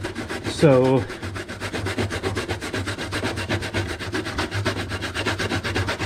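Coconut being grated on a coarse spiked Indonesian grater board, a steady rapid rasping scrape repeated in quick rhythmic strokes, close and continuous, with a brief spoken word near the start.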